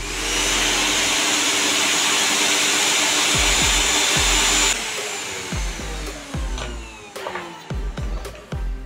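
Mixer grinder motor running after a motor bush replacement, a loud steady high-pitched whine that cuts off partway, then spins down with a series of low clunks and knocks.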